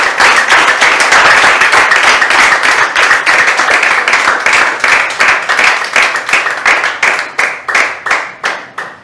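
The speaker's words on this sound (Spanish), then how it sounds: "Denle un aplauso al Señor." A church congregation claps loudly and close during a worship service, a dense wash of hand claps that thins toward the end into separate, slowing claps.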